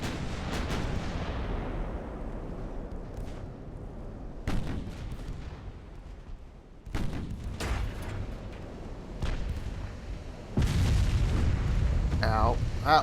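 Shells striking a warship in the naval battle game Ultimate Admiral: Dreadnoughts, heard as several deep booming impacts spaced seconds apart, rumbling and moderately loud, the last one heaviest, without talk.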